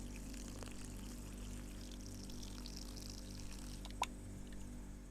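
Liquid broth poured in the video game Cooking Simulator, a faint steady stream running continuously under a low background hum, with a single brief click near the end.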